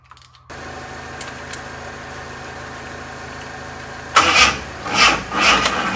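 The engine of a carbureted replica 1980s supercar cranks, then turns over and catches with a few revving bursts, loud and close after a steady mechanical hum.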